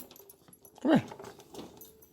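A dog gives a single short whimper near the middle, fairly close and brief, set against a quiet indoor background.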